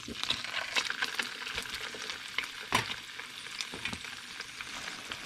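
Hamburger patty sizzling and frying in a hot pan on a stovetop, with a steady crackling hiss and scattered louder pops and a utensil clink throughout.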